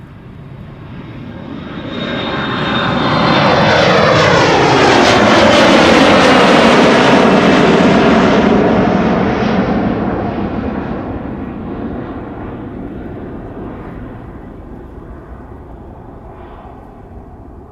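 Boeing 737 airliner at Schiphol Airport, a loud jet roar that swells as it passes close by, peaks, then fades away with a falling tone.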